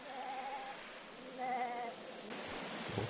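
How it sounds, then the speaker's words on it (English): Sheep bleating in the background of a game scene, two drawn-out wavering calls rising and falling, moderately loud over a low ambient hiss, followed by faint rustling near the end. "What's that sheep sound in the background?"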